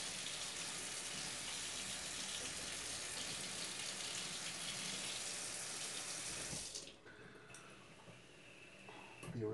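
Kitchen tap water runs in a steady, loud gush into a sink for several seconds while waiting for it to warm, then shuts off, leaving quiet handling sounds.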